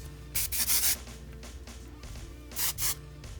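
Moroccanoil Luminous Hairspray Strong Finish sprays in short hissing bursts, several quick puffs up close at the start and another pair near the end, soft and airy with no talking.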